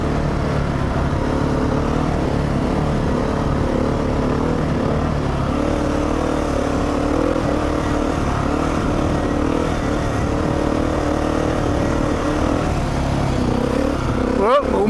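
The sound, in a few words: dirt bike riding through sand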